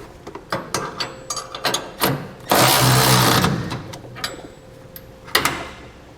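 Crossbar bolts on a B and W gooseneck hitch in a 2012 Ram 2500 are run down with a 3/4 inch socket: scattered ratchety clicks and clanks, then a loud sustained mechanical whir lasting about a second before tapering back to sparse clicks.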